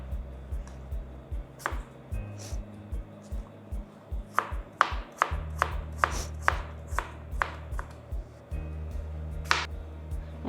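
A knife chops an apple on a cutting board for pico de gallo, giving a run of crisp, close thuds and snaps in an irregular rhythm over a low steady hum, with no talking.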